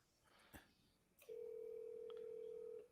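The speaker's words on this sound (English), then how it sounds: "I'm calling you. For a good time. A good time call. Okay, I hear a ring." A telephone call rings through on the line, a brief click followed by a steady, sustained ring tone held for over a second, heard faintly and without talk.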